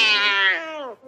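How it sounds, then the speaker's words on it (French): A single cat gives one drawn-out meow, loud and close, falling in pitch before trailing off. "Mais c'est un chat, votre fantôme."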